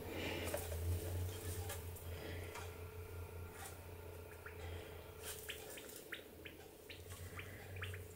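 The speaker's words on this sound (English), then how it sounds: "Now I'm going to soak them in this water here." Collected mosses are soaked in a container of water, giving soft splashes, drips and small sloshing sounds over a low steady hum, with a few light clinks toward the end; quiet and close.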